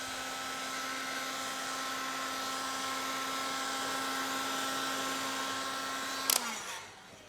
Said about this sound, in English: we recommend a little bit of heat, whether it be a heat gun or a hairdryer